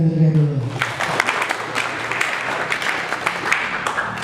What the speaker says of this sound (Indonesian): Coba kita tepuk tangan yang meriah dulu.